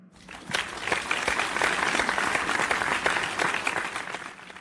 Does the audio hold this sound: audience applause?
yes